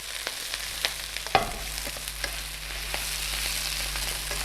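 Unseasoned ingredients sautéed in a pan for a salmon en croute recipe, a steady close sizzle with scattered pops and one sharp clink of a utensil against the pan, no talking.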